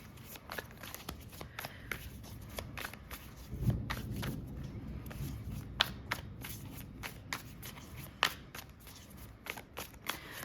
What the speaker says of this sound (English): So of course we're just shuffling a million times